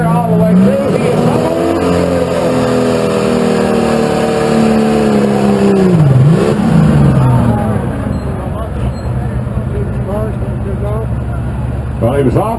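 A pulling tractor roars and revs at a Jefferson City tractor pull, a loud sustained engine drone that rises and then dips sharply before settling into a steady rumble, with an announcer talking over it.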